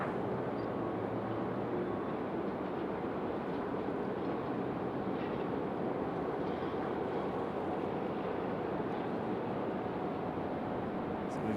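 A Delta CRJ regional jet taxis at Raleigh-Durham International Airport, a continuous broad roar holding even and unbroken throughout.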